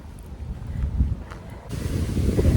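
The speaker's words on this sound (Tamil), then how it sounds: "நல்லா காற்றுங்க சரியான காற்று" Strong wind on an outdoor walk, a rough, gusty roar buffeting the microphone that swells louder toward the end, with no voices.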